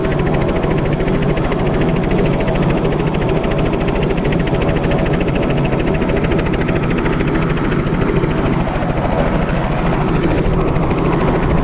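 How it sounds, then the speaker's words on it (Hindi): A helicopter's rotor chops loud and close as it takes off, a continuous heavy whir with engine whine throughout. "और अब आप देख रहे हैं हेलीकॉप्टर उड़ान भर रहा है"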